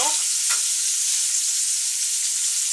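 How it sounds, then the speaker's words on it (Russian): Onion frying in a pan over reduced heat, a steady close hiss of sizzling oil with a brief scrape of stirring at the start. "кладу лук. Благо лук так не стреляет, когда жарится."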